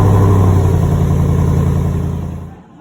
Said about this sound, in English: This isn't the Borla exhaust, this is the stock exhaust